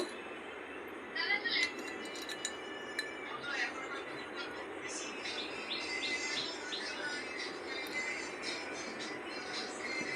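A spoon stirs rock sugar (misri) into soaked kathila, giving a few light, close clinks early on, then softer steady stirring, with faint chirps in the background.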